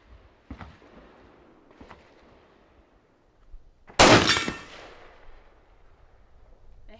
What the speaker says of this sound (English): This is the most shooting I've ever done at 100 yards, and never with the 3x optic.